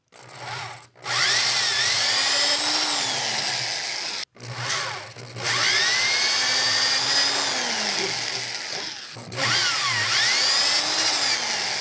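A power drill bores a series of holes in a part for a red Aermacchi motorcycle in a workshop, loud and whining in long sustained runs broken by short pauses.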